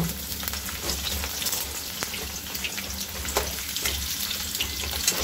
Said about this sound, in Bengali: আলুগুলো একটু নাড়িয়ে চাড়িয়ে নেব